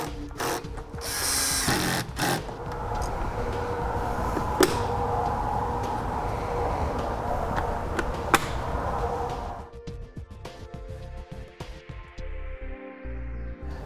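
Taillight assembly fasteners and caps are refitted on a 2015 Chevrolet Equinox with a power tool, giving bursts of close whirring and sharp clicks and taps, then quieter rustling handling, no talk.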